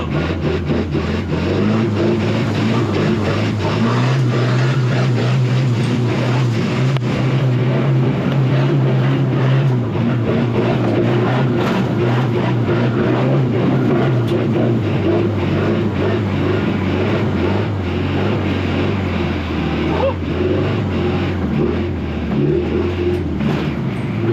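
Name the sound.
1989 Daihatsu Taft GT engine revving off-road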